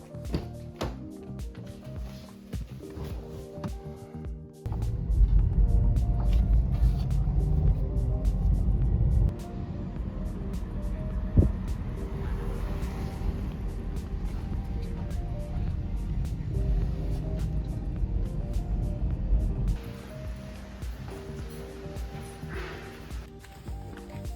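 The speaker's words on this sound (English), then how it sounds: "We're going to take the nice quiet Cadillac." A Cadillac car drives along with a steady low engine and road rumble that swells louder for the middle stretch, then eases back toward a quieter cabin hum.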